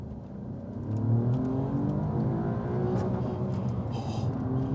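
An Alfa Romeo Giulia Quadrifoglio accelerates hard in race mode from a manual gear, its engine swelling into a loud, sustained rising roar heard from inside the cabin, with no talk over it.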